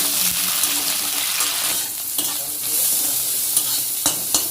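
Fish cooking with vegetables in a pan, sizzling steadily while being stirred, with a few sharp scrapes and clinks of the utensil against the pan near the end.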